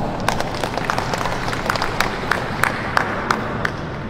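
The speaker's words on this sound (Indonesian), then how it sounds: "Tepuk tangan ya" Scattered clapping from an audience at a provincial assembly in West Java, a thin, uneven spatter of individual claps rather than full applause, continuing for a few seconds.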